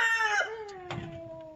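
Chickens inside a backyard coop give a few drawn-out, tonal calls up close, one fading into the next with faint scratchy movement underneath.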